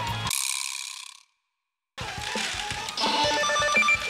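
A pachinko machine sounds its reserve-chance effect: a bright ringing mechanical chime that cuts off abruptly, then after a pause a busy clattering jingle of gears, bells and machine noise resumes in a noisy parlor.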